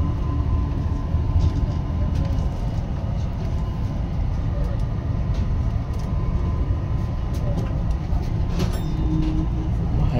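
Cabin noise aboard the Chiba suspended monorail in Japan, a steady close rumble and whir throughout, with no speech.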